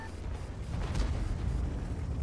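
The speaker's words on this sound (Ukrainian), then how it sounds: "Ось це дуже дивний постріл." A Leopard 1 tank gun firing in a tank video game, one dull, heavy boom with a rumbling low-end tail over steady engine noise, fairly loud, no talk.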